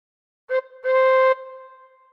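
A tin whistle sounds a clear short note followed by a longer held tone on a lower pitch, bright and close, playing a phrase of One Two Three Four Five.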